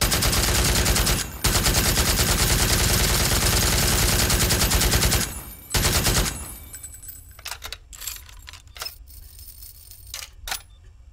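Maximus MG machine gun in the shooter game BRINK fires in a loud sustained burst for about five seconds, breaks briefly, resumes, then gives way to scattered clicks and handling sounds.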